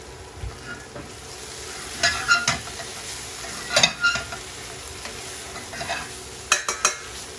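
A spoon stirs chicken jalfrezi frying in a pan over low heat. Scattered scrapes and clinks of the spoon against the pan rise over a soft, steady background sizzle.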